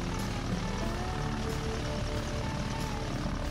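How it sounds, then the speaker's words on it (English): A Stearman biplane's engine during a sunup takeoff from a paved runway at a Galesburg reunion, a continuous broad propeller and engine drone, steady and fairly loud, with no talk. "we planned on taking off on the paved runway so we didn't get sling stuff all over the airplane"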